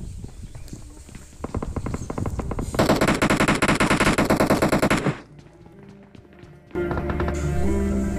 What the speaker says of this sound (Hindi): उन लोगों ने ऑटो गन बहुत चलाया है मेरे पास